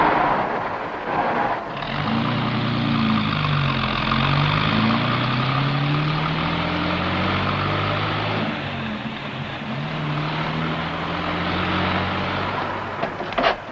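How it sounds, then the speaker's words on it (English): A car engine idles and revs at medium pitch while reversing around a large tree, with steady mid-distance rumble and a few shifting tonal sweeps; no one speaks over it. "Put it in reverse and back around that big tree"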